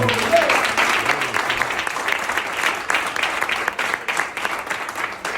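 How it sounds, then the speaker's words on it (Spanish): Church congregation breaking into loud, sustained applause during a Spanish-language service, a dense wash of clapping running the whole time with a voice briefly heard near the start. "den un fuerte aplauso al Señor"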